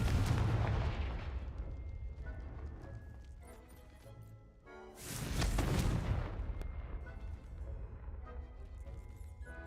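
Spell blasts and impacts from the video game Hogwarts Legacy: booming explosive bursts with one loud surge in the middle, a rolling rumble between hits and a faint voice casting in the background.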